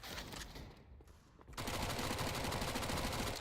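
A MAC-10 submachine gun fires in rapid full-auto bursts in a video game, loud and dense, with a short lull before a long sustained stream of fire.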